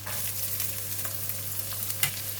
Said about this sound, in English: And now I'm putting in the onions